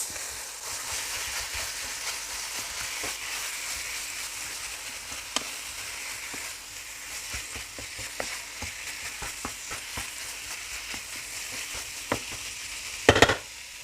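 Minced meat stirred with salt, ginger and garlic paste in a hot pan, a steady sizzle with scraping spoon clicks and scattered taps, a louder clatter near the end.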